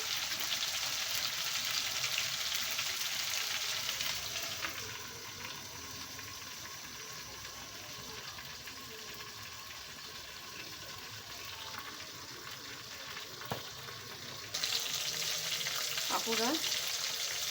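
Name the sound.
chicken pieces grilling in a covered pan on medium heat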